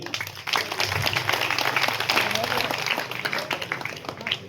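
An audience at an anti-drug awareness event in a Bhadrachalam colony claps in a dense, sustained burst of applause, with a voice talking over it.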